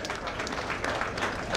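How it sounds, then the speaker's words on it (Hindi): An audience at a welcome ceremony in Janak Puri Club applauds for Governor Prof. Jagdish Mukhi, giving a brief burst of dense, even clapping at moderate volume from a crowd in the room. "जोरदार तालियों के साथ उनका स्वागत"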